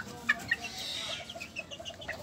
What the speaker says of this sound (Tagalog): pupuntahan ulit natin yung mga sisiw na Sea Bright